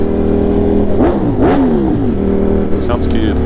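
A Ducati motorcycle engine idles with a steady low rumble, then is blipped through two quick revs that rise and fall before settling back to idle, loud and close.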